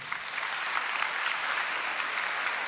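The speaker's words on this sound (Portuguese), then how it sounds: "Aplauda essa palavra." A church congregation at a Catholic mass applauds in one dense, steady wave of clapping that fills the room and holds evenly throughout.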